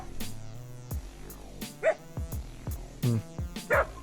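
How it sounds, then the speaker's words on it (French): A dog barks repeatedly at night in short, loud bursts with uneven gaps, fairly close, with a low hum running underneath. "Ça va pas d'aboyer à cette heure-ci là."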